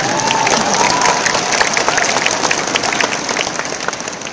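An audience at a celebration event breaks into lively applause with scattered cheers, many hands clapping in a dense, fairly close wash that gradually thins toward the end.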